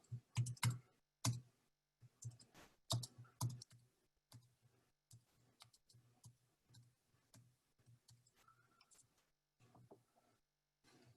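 Keys on a computer keyboard clack in quick irregular bursts, close and fairly quiet, with short pauses between runs of typing in a still room.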